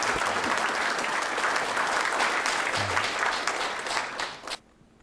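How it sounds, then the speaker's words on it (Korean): An audience applauds to welcome an advisor at an inauguration ceremony, loud and dense clapping that cuts off sharply near the end, leaving quiet. "여러분 다 같이 박수로 한번 환영했으면 좋겠습니다"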